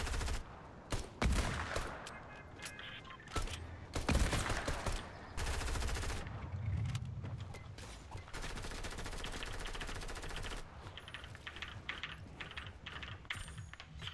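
Rapid bursts of gunfire and pump shotgun blasts from a first-person shooter game fire in irregular volleys, mixed with clicky keyboard typing, with no talk during the stretch.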